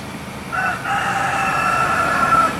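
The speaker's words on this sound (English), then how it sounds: "Of course the chickens are all on the go," A rooster crows on a morning street in the Philippines, one drawn-out cock-a-doodle-doo of moderate loudness over quiet background hum, with no talking.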